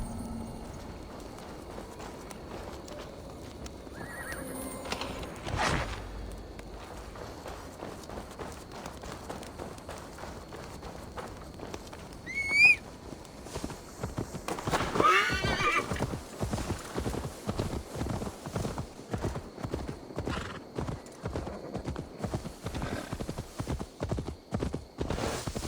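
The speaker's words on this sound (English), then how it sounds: "Now to deliver Magni his horse" A horse whinnies in Assassin's Creed Valhalla, then hooves clip-clop in a steady, quickening rhythm, loud and close, continuing for a long stretch.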